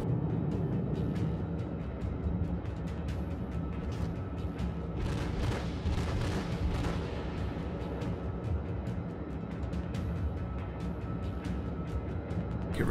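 Heavy battleship guns of the South Carolina firing in World of Warships, deep booming salvos rolling under constant engine and sea rumble, with a loud cluster of blasts near the middle.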